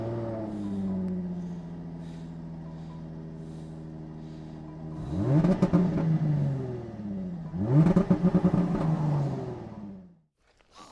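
Jaguar F-Type 400 Sport coupe engine idling, then two strong revs in sport mode, each rising and falling back, loud and close, before cutting off.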